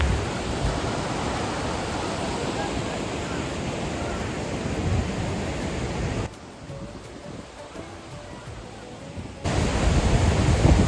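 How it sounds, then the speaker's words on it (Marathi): A river in Pahalgam rushes past in a constant broad roar of flowing water, loud and close, briefly dipping quieter partway before surging back to full strength. "चारी बाजूनी ही नदी वाहते, नदीचा आवाज येतोय, अशी नदी वाहते"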